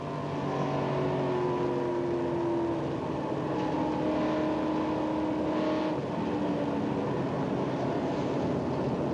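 Continuous roar of a NASCAR race car engine heard from inside the car, pitch shifting as it accelerates and backs off, loud and steady throughout.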